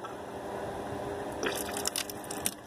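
A pump pushes water out of a faucet into a sink, a steady close hiss of running liquid with a few louder splashes toward the end.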